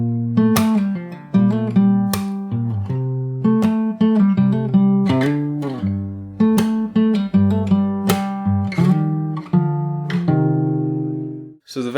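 A longer fingerstyle acoustic guitar section of a pop song rings out, mixing bass notes with bright plucked chords in a steady groove and ending on a fading chord. It is played solo and close, with no talking.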